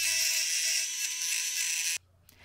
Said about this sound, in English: I also use Dremel to smooth out the ends.